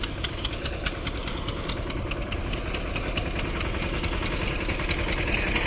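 A tractor engine running on a village farm, a steady chugging with a rapid rhythmic knock throughout, loud and close, with no voices over it.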